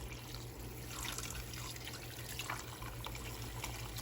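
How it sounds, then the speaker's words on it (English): Water poured into a pot holding a roast with onions and tomatoes: a continuous close splashing trickle, fairly steady for a few seconds with slight gurgling surges. "And then I'm going to add more water."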